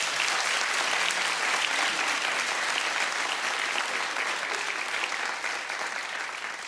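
Sustained studio audience applause on a daytime talk show, dense and steady clapping throughout that fades slightly toward the end, with no talking over it.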